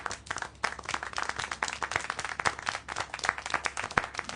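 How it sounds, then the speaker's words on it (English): A small crowd claps and applauds in the video game Syberia: The World Before, a dense, uneven patter of many hands that swells and dips for a few seconds without speech. "How can you clap?"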